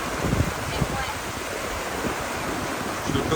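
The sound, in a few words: wind while camping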